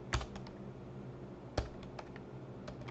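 Someone types on a computer keyboard while working in Python with Alteryx, producing soft, scattered key taps with a couple of louder strikes, close and quiet over a faint background hiss.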